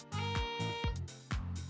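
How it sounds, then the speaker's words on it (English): A keyboard plays through a talkbox tube without mouth shaping. It gives a few buzzy, raw synth notes in short bursts, each dropping in pitch, close and fairly loud. "However, if I'm to not use my mouth to shape the sound, it will sound like this."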